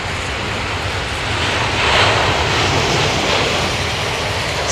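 A Royal Air Maroc Boeing 737 MAX with CFM LEAP engines lands in wet weather at London Heathrow, a steady loud jet roar swelling slightly near the middle over a broad rushing wash, with no voices.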